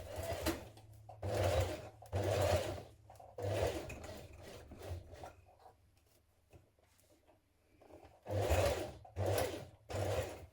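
A sewing machine stitches in the ditch along a trouser waistband seam, running in repeated short bursts of motor whir separated by quiet pauses, close and fairly soft.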